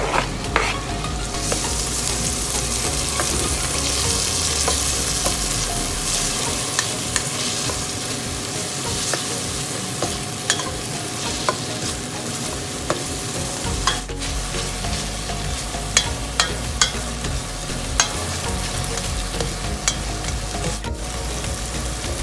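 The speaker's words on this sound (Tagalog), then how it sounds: "Ginasa na natin ang bawang at sibuyas. At isunod na rin natin ang kamatis." Garlic, onion and tomato sauté in a pan for Filipino salmon-head sinigang, a steady loud sizzle with frequent stirring scrapes and utensil clicks throughout, no voices.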